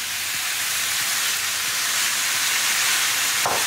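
Baby potatoes hit a hot pan with chicken thighs, producing a dense, steady hiss of frying at close range, with a brief clatter near the end and no talking.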